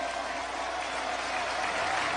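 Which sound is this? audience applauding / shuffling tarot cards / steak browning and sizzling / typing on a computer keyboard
audience applauding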